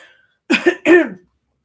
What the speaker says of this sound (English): I'm just clearing my throat